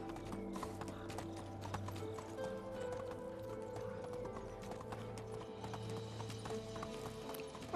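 Steady, rhythmic clip-clop of horse hooves from horseback riding in the Medieval Dynasty game on Xbox, continuous and moderately loud, layered over low ambient game sound.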